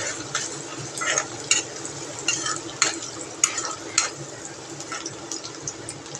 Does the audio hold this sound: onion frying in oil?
yes